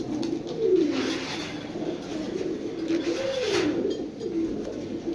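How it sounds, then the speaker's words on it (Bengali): A large male silver pigeon coos repeatedly in low, rolling phrases, close and clear over a soft steady background hum. "একটা সিলভার নর, দেখার মতো বিগ সাইজ, সিলভার একটা নর কবুতর"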